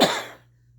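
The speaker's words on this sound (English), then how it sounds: "Got a cough" A single short, sharp cough close to the microphone, fading quickly into quiet room tone.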